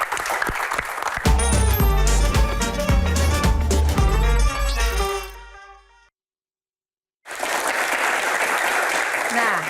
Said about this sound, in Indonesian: Baik, tepuk tangan untuk Pak Bolot